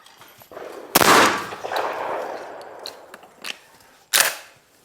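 A Benelli shotgun fitted with an Advanced Impact barrel fires at clay targets, two sharp, loud reports about three seconds apart, each with a short ringing tail and a faint click between them.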